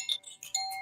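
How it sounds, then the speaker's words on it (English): A koshi chime of the fire element rings with bright, clear tones in a couple of quick struck bursts, close up and shimmering with no talk. "The chime is like a wind chime, but they're called koshi chimes."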